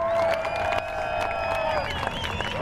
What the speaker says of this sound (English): you're a great sounding crowd out there